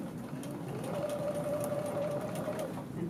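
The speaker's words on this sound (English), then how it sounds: "So go ahead and back stitch these." Sewing machine back stitching a neck facing at the shoulder gives a steady rapid whirring hum, close and continuous for a few seconds, with faint ticking over it.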